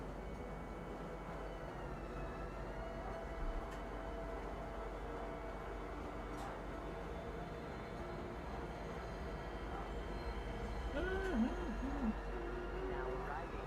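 An in-game train pulls into a station, a steady low rumble and rolling rail noise throughout, with a few faint tonal chimes or announcement-like tones near the end.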